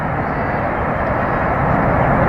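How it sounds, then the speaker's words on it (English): Airplanes climb away from an airport seen across the Swan River from a city park, heard as a loud, steady, broad roar with no pauses and no voices. "There's planes going up."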